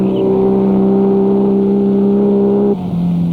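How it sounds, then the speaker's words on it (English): Porsche 904 race cars in the GT class at the 1965 Sebring 12-Hour, a loud, steady high-revving engine drone holding pitch, then a brief dip as it shifts and carries on, no voices. "The Pon Buzetta Porsche 904, followed closely by the Underwood Class Porsche, are first and second in GT Class 10"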